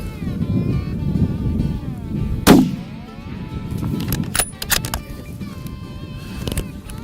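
A single loud rifle shot fired outdoors at a buck 345 yards away, a sharp crack with a brief echo, surrounded by wind noise and rustling.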